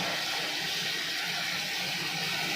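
Ginger, garlic and onion paste sizzling as it is stirred in a hot pan, a loud steady hiss filling the clip without pause and with no voices.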